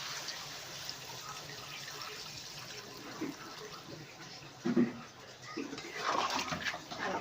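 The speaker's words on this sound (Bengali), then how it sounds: "জলটা দিয়ে দিচ্ছি।" Water is poured into a bowl while cooking Bengali shukto, a faint trickle and splash that grows louder toward the end, with quiet kitchen background and no clear speech.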